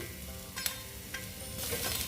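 Tomatoes frying in a pan for restaurant-style Afghani egg curry, a soft continuous sizzle with a couple of sharp scrapes from stirring, fairly quiet and close, no talking.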